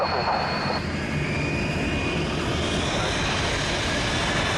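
A light airplane flies a left circuit, its engine a steady, broad drone that holds throughout at moderate distance, with faint radio-style talk mixed in.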